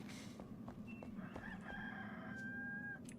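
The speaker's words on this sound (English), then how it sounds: "At least they made a chicken sound in the game." A chicken in the video game Enshrouded crows once, a drawn-out cock-a-doodle-doo near the end over a low background hum, with a few faint clucks before it and no talking.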